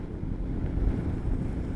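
Strong typhoon wind buffets the microphone while riding through heavy rain near Japan, a steady low roaring rush with no voices, close and continuous throughout.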